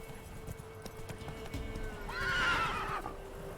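Roach, the horse in a Witcher video game, clip-clops along with steady hoofbeats and then lets out a clear, fairly close whinny in the last second and a half.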